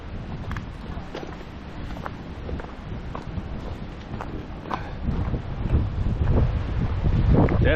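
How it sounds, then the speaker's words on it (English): Wind gusting across a rocky Appalachian Trail overlook above a river valley in icy winter conditions, a steady broadband rush with buffeting against the microphone that swells louder toward the end, with no talk. "Definitely windy up here."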